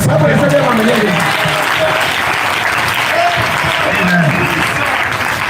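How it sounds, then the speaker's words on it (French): A church congregation at a Pentecost jubilee service applauds the Lord with sustained, dense clapping that fills the room, while a voice carries over the applause. "Est-ce qu'on peut acclamer le Seigneur?"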